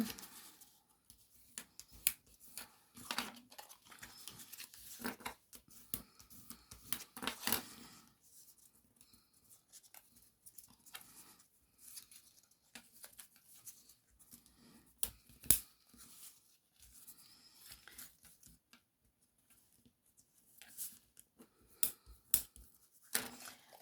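Paper being folded into creases for a 2023 calendar, soft close crinkles and sharp little snaps scattered irregularly in a quiet room, with no talking.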